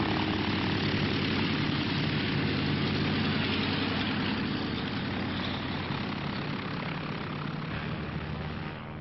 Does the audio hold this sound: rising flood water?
no